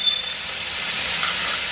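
Steak searing in a hot pan gives a steady, loud broadband sizzle and hiss that runs unbroken throughout, with no talking over it.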